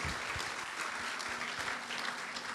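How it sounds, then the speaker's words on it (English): A crowd claps steadily throughout a grand opening ceremony, a dense, even wash of applause heard from within a large room. "So how about it one more time? A round of applause for Margaret Bengzon."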